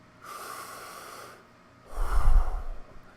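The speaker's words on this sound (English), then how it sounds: "Take deep breaths." Two slow, deep breaths for calming anxiety, each a long breathy rush of air close to the mic, the second a heavier exhale with a low rumble, a short pause between them.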